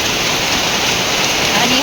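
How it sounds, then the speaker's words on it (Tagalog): Heavy rain pours down steadily as a loud, dense hiss of drops with no break, close and unchanging throughout. "Kusog na gid hinuon kayo ang ulan."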